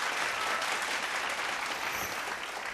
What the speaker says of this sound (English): Round of applause, please, for Dream Inn Luxury Service Apartments